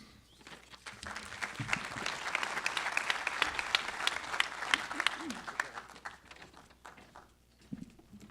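Audience clapping at a 2024 talent pipeline signing day, a moderate round of applause that swells, holds for several seconds, then tapers off, with faint voices and room sounds underneath.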